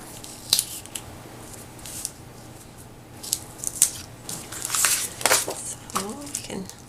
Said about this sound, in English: use our scissors, and to trim it off, I always turn the page over.